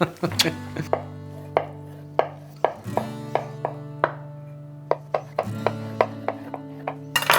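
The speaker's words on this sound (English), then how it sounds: "And then I'm just gonna cut slices like this size" A knife slices through a block of pressed tofu on a cutting board with repeated crisp chops at a steady, unhurried rhythm, each stroke ending in a sharp tap of the blade against the board, close and clear, with no talking.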